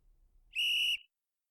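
A referee's whistle at a basketball game gives one steady, shrill blast of about half a second. It is loud and close, and almost nothing else is heard around it.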